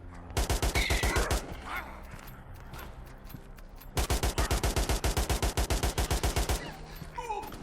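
Rapid automatic gunfire in the VR shooter Ash of Legends rattles out in two long bursts of loud, evenly spaced shots, separated by a stretch of quieter game noise.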